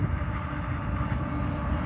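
A CSX freight train hauling oil tank cars rolls past at Deshler, Ohio, a steady loud rumble and rattle of wheels and cars, continuous and close, with no voices.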